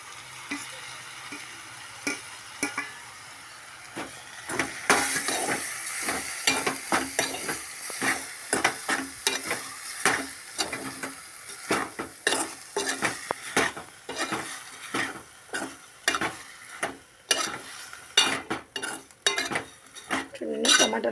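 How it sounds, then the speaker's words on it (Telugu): Okra (ladies finger) fries with tomato in a pan, sizzling steadily while a utensil scrapes and clinks against the pan in quick, irregular strokes, close and alone with no talk. "అలాగే ఇప్పుడు నేను టమాటా వేస్తున్నా"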